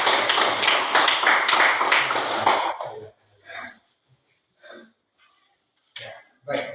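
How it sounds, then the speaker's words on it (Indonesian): Classroom applause from a group of students, steady dense clapping for a few seconds that fades out, followed by scattered murmuring voices. "Kita beri tepuk tangan."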